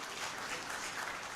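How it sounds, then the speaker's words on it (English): Audience members clap for themselves at the official launch event of Streamline Ubuntu in Uganda, a short, soft and even burst of many hands heard at a distance. "You can clap for yourselves."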